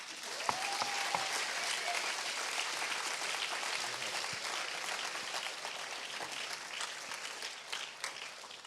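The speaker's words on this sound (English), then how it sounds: "Clapping is in order." Sustained audience applause fills the room at a Model UN conference opening ceremony, steady crowd clapping running throughout with no talk over it.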